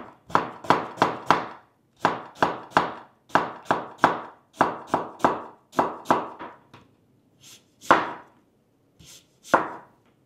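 A knife cutting half an unpeeled apple into thin julienne strips on a board, heard as quick bursts of three to four sharp chops separated by short pauses, then a few slower single cuts at the end, close and alone.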